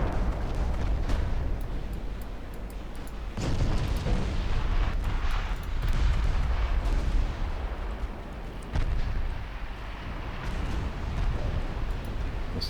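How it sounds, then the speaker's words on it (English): Torpedo hits on warships in the Ultimate Admiral Dreadnoughts naval game come as repeated heavy booming blasts, each a sharp onset with a rumbling decay, layered over dense battle noise. "my torpedoes are also hitting home"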